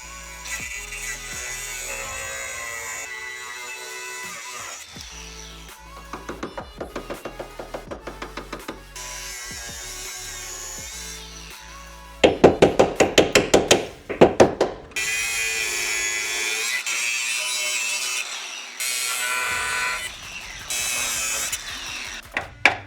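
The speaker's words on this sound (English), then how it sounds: "So we're gonna cut this old one out and we're gonna weld the new one in." Cutting tool working through old welds on a vintage Porsche suspension part, loud bursts of harsh grinding and rapid buzzing pulses that start and stop repeatedly, close up with no talk.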